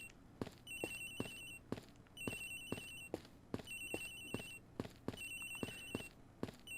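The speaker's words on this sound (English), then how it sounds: "Agent Hicks's phone. It's ringing from somewhere, sir." A telephone rings in the Ace Attorney Investigations: Miles Edgeworth game, sounding as a steady series of bright, electronic double-trill bursts with short gaps between them, moderately quiet and with no voices over it.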